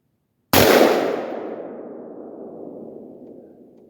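A single sharp AR-15 rifle shot fired one-handed outdoors, a loud close crack after brief silence followed by a long decaying echo rolling away.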